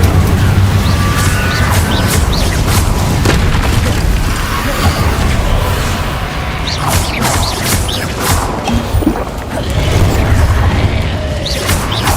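Incendio fire spells and combat in the video game Hogwarts Legacy, loud continuous booming blasts and crashes with bursts and impacts layered throughout.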